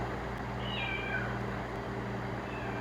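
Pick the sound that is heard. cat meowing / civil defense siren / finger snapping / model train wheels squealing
cat meowing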